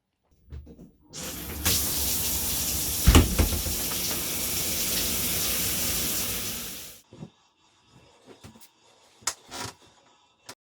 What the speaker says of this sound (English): I'm gonna have a shower and wash my hair